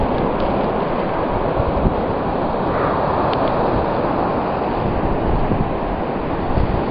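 Strong wind blows through a blizzard in New Hampshire, a steady, loud roaring rush with gusty swells and buffeting on the microphone, with no talking.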